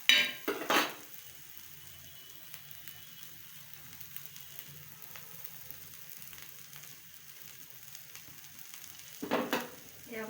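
Coconut and onion roasting in oil in a pan give a soft, steady sizzle, framed by louder clinks of a utensil against the pan at the start and near the end.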